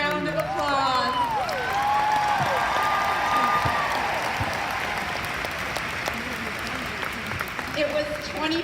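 Large arena crowd at a Mary Kay seminar applauds in a steady, sustained roar of clapping throughout, with voices and some music heard over it.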